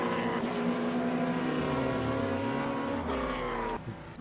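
A 1967 Chevrolet Camaro SS V8 pulls uphill at half throttle in third gear on a canyon road, its steady engine drone rising and falling in pitch, loud and close, with no talking.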